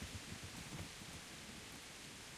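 Steady rain in the video game Kingdom Come: Deliverance, a faint, even hiss of falling water with soft low rumbles near the start, heard alone without talk.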